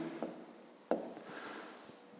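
Pen writing on paper for a fifth-grade maths exercise: faint, close scratching strokes with a couple of sharper taps, quiet and brief with no talking.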